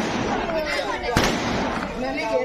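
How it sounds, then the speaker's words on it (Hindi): A small Ravana effigy packed with firecrackers burns and one sharp crack bursts from it midway, standing out over a steady crowd murmur and voices nearby. "वाह, ये छोटा रावण फूट गया, इसके पटाखे बज गए।"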